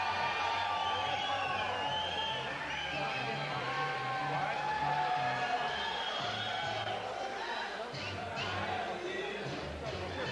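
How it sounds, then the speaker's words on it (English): A large, enthusiastic boxing crowd at the Celebrity Theater in Phoenix, Arizona, for James Toney against Terry Porter, heard as a constant murmur with scattered whoops and shouts while a commentator talks over it. "We have a very enthusiastic crowd and a big crowd here at the Celebrity Theater in Phoenix, Arizona"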